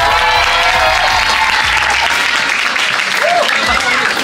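Loud, dense applause fills a school graduation ceremony as a special merit award is announced, an unbroken roar of clapping from a large crowd with voices faintly mixed in.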